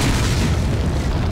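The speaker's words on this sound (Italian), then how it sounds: "Se sparo esplode." A loud, dense boom fills the whole moment, a heavy blast rumbling with no pause, as a trap explodes when shot in Resident Evil 4.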